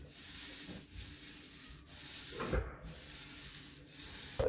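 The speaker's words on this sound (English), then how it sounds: "just get a good pile of it in your roller, take it to the wall and give it back and forward motion like that" A paint roller loaded with magnet paint moving back and forth across a wall, making a soft, continuous rubbing swish with gentle rises as each stroke changes direction.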